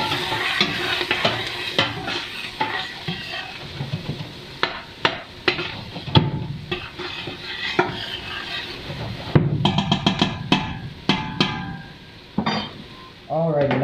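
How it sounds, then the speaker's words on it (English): Onions frying in melted butter in a pot for cheddar potato soup, a steady crackling sizzle broken by scraping stirs and clinks of a utensil against the pan, fairly close, with no one speaking over it. "I'm gonna go ahead and throw these onions in here, and we're gonna let them cook up until they're soft and fragrant"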